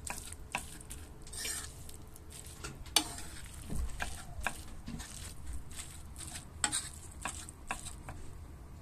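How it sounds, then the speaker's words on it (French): Minced meat mixture stirred in a pan after the heat is turned off, with scattered scraping and clinking strokes of a utensil against the pan over a faint background hiss. "Voilà, vous faites un bon petit mélange."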